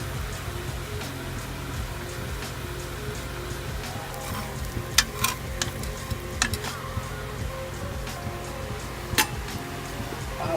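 Appam batter poured into a hot pan and swirled, giving a steady soft sizzle with light crackling pops and a few brief clinks of the pan, no talking.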